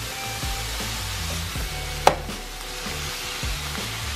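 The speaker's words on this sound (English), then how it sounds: "Our ground beef is cooking just a little bit" Ground beef frying in a pan over a high flame, a steady close hiss with occasional scraping and one sharp clack midway.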